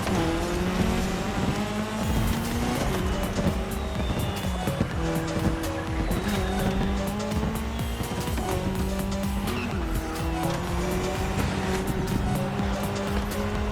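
Race cars roar through The Crew Motorfest video game with tires squealing and skidding through a bad turn, a steady loud engine drone with rising and falling pitch sweeps and scrapes throughout.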